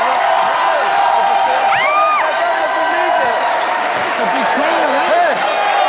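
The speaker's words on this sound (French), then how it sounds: "Je vous demande d'applaudir Jason Statham." A studio audience on a French TV talk show claps and cheers for Jason Statham, with whoops over the applause while voices talk loudly on top.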